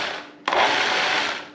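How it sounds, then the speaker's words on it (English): A food processor gives crab meat, just under a pound, one sharp pulse: a sudden loud whirring burst that starts abruptly and runs for about a second before easing off, with no talking. "give it a pulse, give it a stir, because we want to break down the crab meat"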